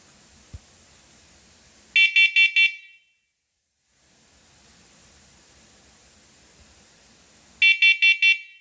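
A smoke alarm sounds two loud bursts of four sharp, high beeps, several seconds apart, with a faint hiss in between.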